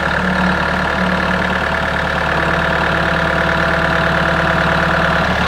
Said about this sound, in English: we need to see if we can borrow my neighbor's tractor